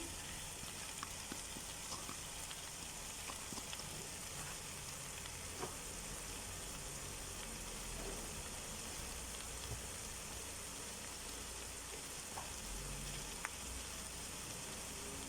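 Garlic, oregano and thyme sizzle in a hot pan for a Dominican rice dish, a steady broadband crackle with scattered pops and faint stirring clicks, close and continuous with no voices.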